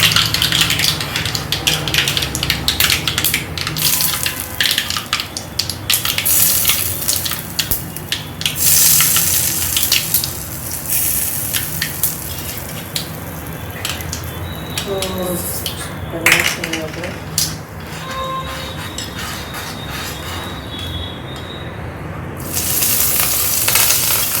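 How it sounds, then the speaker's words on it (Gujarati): Hot oil tempering (vaghar) sizzling in a pan and poured over chutney for moong dal dhokla, a steady crackling hiss with clinks of metal utensils and pans throughout. "આપણે વઘાર પહેલાં ચટણીમાં રેડી નાખીએ છીએ."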